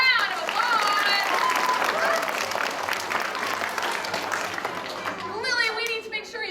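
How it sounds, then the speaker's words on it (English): A crowd of children in an elementary school audience clapping loudly and steadily, with excited kids' voices and shouts mixed in, before the applause fades and an adult starts speaking. "let's give Lily a big round of applause."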